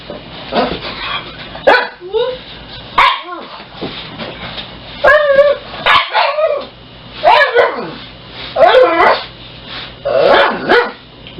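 A dog barks and yips in a series of short, loud bursts close by, mixed with whimpering sounds and a person talking intermittently.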